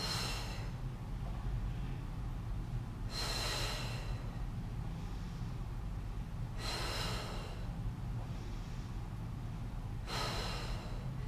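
Slow, deep breaths during a Pilates balance and strength exercise: three loud airy exhales spaced about three seconds apart, with softer inhales between, close and quiet, without talk.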